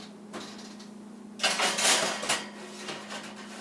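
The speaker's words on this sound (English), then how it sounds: "Now, after that, you will pop them lightly into your oven" A cookie tray slid into an oven, a soft metallic clatter and scrape building into a louder rattling burst midway, then settling, close by over a steady low hum, with no talking.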